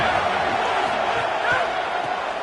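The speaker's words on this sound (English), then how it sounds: "This crowd ready to make its presence known." Stadium crowd in an NCAA football video game, a broad, continuous roar of many voices at moderate distance, swelling slightly midway, with commentary voices mixed in.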